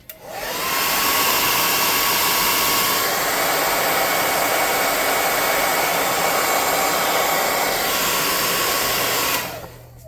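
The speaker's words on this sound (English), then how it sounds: "I'm going to hit this with a hot air gun and dry that black paint" Hot air gun drying black paint on a miniature figure, a loud steady whooshing blast that runs close and constant for about nine seconds with a slight pitch shift midway, then switches off, no talk.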